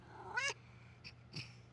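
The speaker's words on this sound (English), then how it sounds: "Here's my cat." A house cat gives one rising meow, followed a moment later by a couple of short, softer chirping calls, all fairly quiet against a low steady hum.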